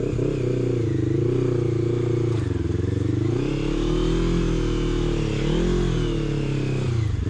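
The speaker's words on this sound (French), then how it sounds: "Bon, on va amener les motos." A motorcycle engine drones steadily nearby, its pitch rising and falling as it revs and idles.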